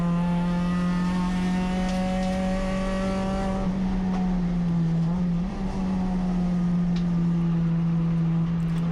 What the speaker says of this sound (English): Yeah, listen to those tires.